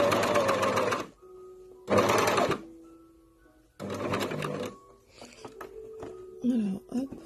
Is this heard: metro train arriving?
no